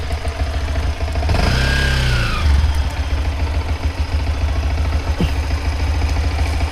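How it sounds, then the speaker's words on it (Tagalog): A motorcycle engine idles and clatters steadily nearby, with a brief rise in revs partway through; the bike has been converted from trail use to highway riding. "Bago man ako dito sa motor ni Kabungot."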